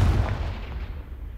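A Confringo fire spell from Hogwarts Legacy bursts as a single deep, booming explosion right at the start and rumbles away over about a second.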